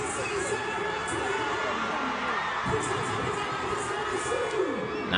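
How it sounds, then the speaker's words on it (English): A crowd cheers and shouts from a video played back in a room, a dense, steady roar of many voices with some thumping underneath, moderately loud and without a break. "do you hear the crowd"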